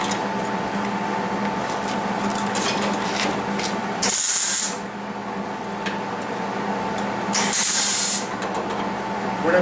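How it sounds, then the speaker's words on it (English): MIG welding on the quarter panel of a Ford Fairlane, a steady sizzling crackle held close throughout, with two brief bright bursts of hiss breaking through. "What I'm doing is I'm welding it solid back there, guys."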